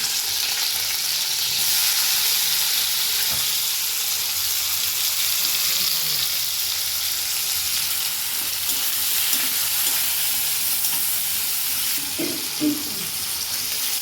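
Chopped onions fry in an oil-filled pan for an egg curry, giving a steady close hiss and sizzle throughout, with faint stirring scrapes and a brief clatter near the end.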